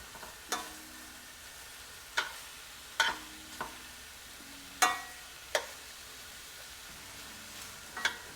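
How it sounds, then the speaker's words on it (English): Zucchini noodles sauté in olive oil in a pan, with a soft sizzle under a series of sharp clinks and scrapes as they are stirred, about eight distinct strokes spread unevenly. "I'm just gonna saute a little bit in olive oil"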